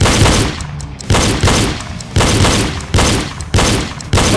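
Gunshots from target shooting in the video game Reload boom loudly and close by, a regular run of powerful blasts about every half to one second, each decaying into a long echoing tail.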